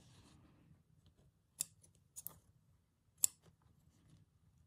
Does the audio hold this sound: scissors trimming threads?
yes